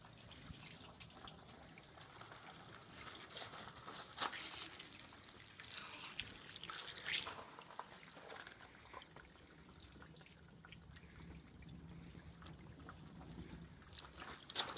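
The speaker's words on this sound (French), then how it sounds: "on va laisser évacuer l'eau" Rinse water trickling and dripping off a polymer-coated car, a faint, steady dribble with scattered drips, heard close and alone.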